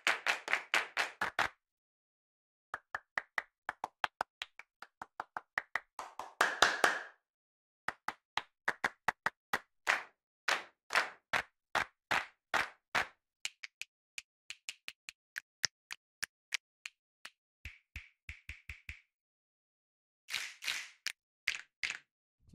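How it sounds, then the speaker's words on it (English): Sampled hand claps and finger snaps from the Big Fish Audio SMACK percussion library play as crisp, dry hits in quick rhythmic runs, with short gaps between the groups of hits and no voices. "Some really authentic sounding claps and snaps."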